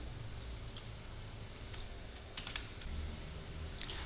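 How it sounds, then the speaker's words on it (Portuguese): Fingers type text on a computer keyboard at a steady pace, producing faint, soft key clicks over a quiet background hum, with no talking. "vamos digitar o texto"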